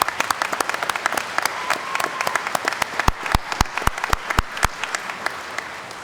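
A commencement crowd applauds graduates' families, with steady dense clapping and several sharp, loud claps standing out near the listener.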